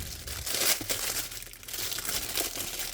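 A diamond painting kit package is torn open up close, with continuous crinkling and rustling plastic wrapping and a few sharper tearing bursts, and no talk.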